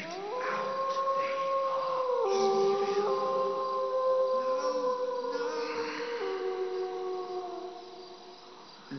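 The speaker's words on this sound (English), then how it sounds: "That was just a dog howling." A dog howls in the intro of the 1995 PC game Shivers, long drawn-out wavering tones rising and falling over several seconds, clear and fairly close against a quiet backdrop with faint insect chirping.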